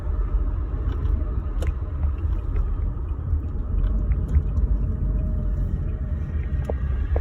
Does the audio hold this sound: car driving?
yes